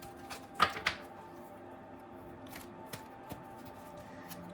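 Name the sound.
shuffling tarot cards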